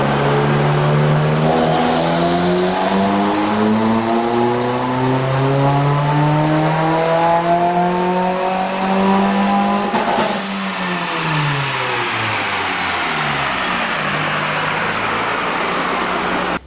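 A 2017 Subaru Forester XT with Perrin headers revs hard on a dyno during a tune at VTR. The engine climbs in a long rising pitch, drops off and climbs again, loud and continuous with no talking.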